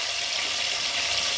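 Garlic and onion fry in a pan with hot oil, giving a loud, steady, hissing sizzle without a break.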